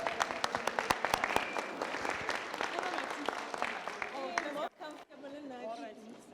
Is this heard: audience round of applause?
yes